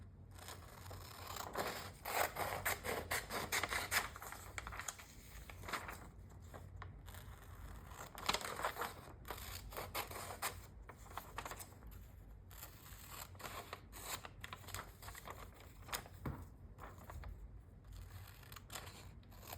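Paper is torn by hand for a collage, close and quiet, with crisp ripping and crackling bursts scattered irregularly over a soft background.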